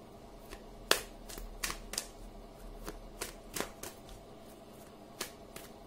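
Oracle cards are shuffled and drawn in a quiet room, giving a series of sharp riffling snaps and flicks spaced irregularly through a soft background, with no talking.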